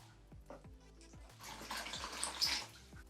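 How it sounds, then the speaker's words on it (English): Vinegar poured into a container big enough to hold a tin tub, giving a soft close splashing pour that grows louder and bubblier toward the end, with a few light knocks near the start. "So once we pour the vinegar in,"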